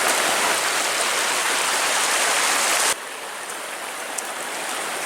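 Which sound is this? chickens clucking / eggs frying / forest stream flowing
forest stream flowing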